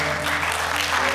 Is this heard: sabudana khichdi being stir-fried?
no